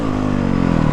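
A 2020 Honda CRF450R dirt bike engine revs loud and close, a brief throaty burst with a slight downward pitch sweep and a choppy firing pulse.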